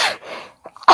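A single loud sneeze bursts out at close range during a meeting, preceded by a short breathy intake and followed by a sharp explosive release.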